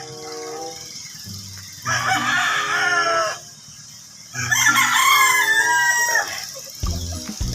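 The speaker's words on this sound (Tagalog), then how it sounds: "Daming manok ng sabong." Fighting cocks crow in two long, loud, close calls over a backdrop of steady clucking and low farmyard murmur, with no talking.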